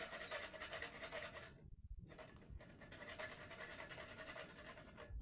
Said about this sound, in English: So you grate your nutmeg into it.